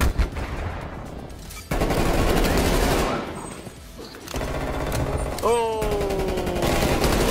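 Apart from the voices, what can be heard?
gunfire in Call of Duty Cold War video game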